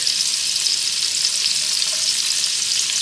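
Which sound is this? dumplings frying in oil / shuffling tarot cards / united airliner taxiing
dumplings frying in oil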